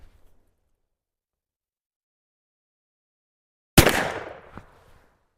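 A single loud blast from a wall hanger muzzle loader firing 35 grains of 777 2F powder, a sharp report with a fading rumble after silence.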